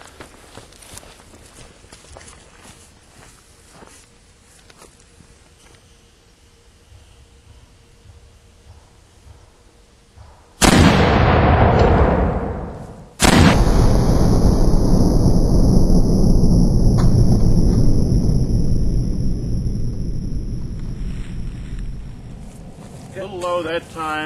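A 6-pounder French howitzer loaded with black powder and a round zinc ball fires one loud, sudden blast, followed by a long rolling echo that slowly fades. Quiet outdoor ambience comes before the shot, and a faint voice is heard at the end.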